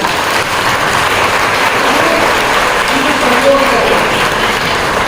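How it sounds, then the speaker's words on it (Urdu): A large audience at a school commemoration event gives loud, sustained applause for the teachers, an even roar of clapping lasting throughout with faint voices mixed in. "ان تمام اساتذہ کے لیے آپ زوردار تالیاں"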